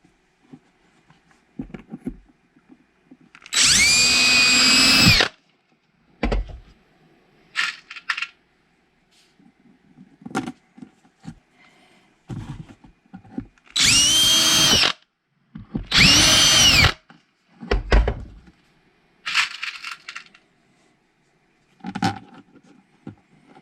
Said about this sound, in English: I'm going to screw it down